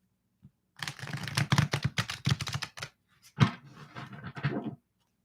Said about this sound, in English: Wait, one more shuffle.